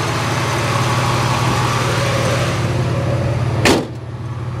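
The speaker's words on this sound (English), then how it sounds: "There's my engine." A 1987 Pontiac Firebird with a 2.8 V6 idling close up, a steady low rumble with a regular pulse and a brief sharp knock near the end.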